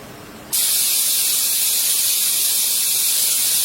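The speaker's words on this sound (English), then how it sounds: "Okay, now the whistle has gone." A loud, steady high-pitched hiss of steam bursts out suddenly from a pressure cooker whistle and continues without pause, venting forcefully.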